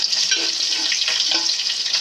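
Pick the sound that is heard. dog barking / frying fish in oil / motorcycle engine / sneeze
frying fish in oil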